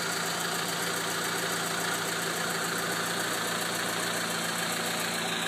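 A 1987 Honda Civic with a 12-valve D13 four-cylinder idles through its muffler, giving a steady, close, even exhaust drone with a fine rhythmic pulse throughout and no voices.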